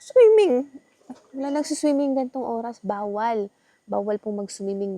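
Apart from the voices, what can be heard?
No everyday noise stands out behind the speech.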